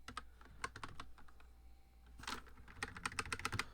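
Keys clatter on a computer keyboard in quick, irregular bursts, close to the mic, with a brief lull in the middle before the typing picks up again.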